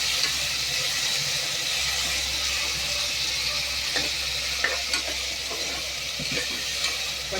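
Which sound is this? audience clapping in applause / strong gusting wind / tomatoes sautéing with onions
tomatoes sautéing with onions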